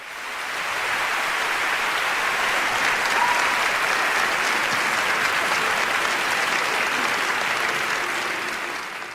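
Loud, sustained applause from an audience honouring students and teachers from seventeen countries. Dense clapping swells in, holds steady for several seconds, then tapers off at the end.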